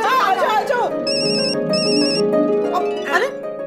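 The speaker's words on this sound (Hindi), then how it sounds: "एक मिनट, जेठा भाई ने फोन" An electronic mobile phone ringtone for an incoming call plays in two short bright bursts, clear and fairly loud, layered over a musical background score with voices in a Hindi TV comedy scene.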